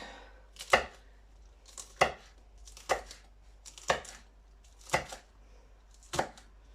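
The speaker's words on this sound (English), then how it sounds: "Now we have to cut the chilies and the onion and garlic." A knife chops chilies, onion and garlic on a board in six slow, evenly spaced crisp thuds, close and clear with quiet gaps between strokes.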